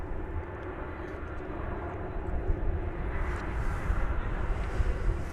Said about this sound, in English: This is flight 1230 to Albuquerque. It's a 737-800.